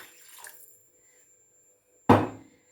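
A short burst of water splashing and pouring into a pot from a mug, loud and close, lasting about half a second after a quiet stretch.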